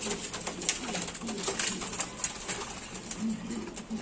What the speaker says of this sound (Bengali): আজকে অনেকগুলি কবুতর নিয়ে আমি হাজির হয়েছি